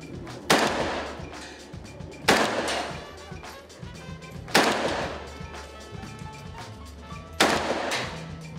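Four loud AK-47 rifle shots ring out one at a time at a shooting range in Cambodia, evenly spaced about two seconds apart, each with a short echoing tail.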